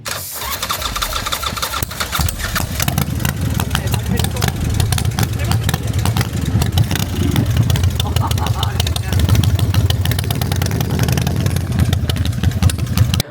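A custom-built motorcycle, constructed from scratch, runs with a steady, loud engine roar that fills the whole stretch, with voices faintly underneath.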